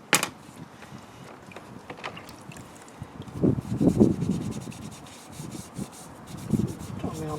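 Scotch-Brite pad rubbing and wiping off paint softened with Dettol stripper, a soft irregular scrubbing that is close and fairly quiet, with a few louder strokes midway.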